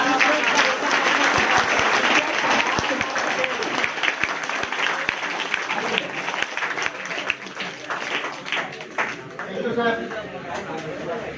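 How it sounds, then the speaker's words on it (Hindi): Loud, sustained applause from an audience at a school Saraswati Puja celebration, dense clapping throughout with a murmur of voices and chatter mixed in, easing slightly toward the end. "एक बार जोरदार ताली बजाएं आप लोग।"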